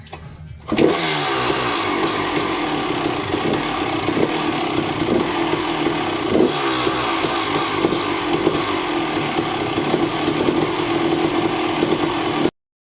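A two-stroke Honda motorcycle engine fires up and then holds a loud, raspy, buzzing run close by, with small rises in revs over a steady idle and no voices, before cutting off suddenly at the end.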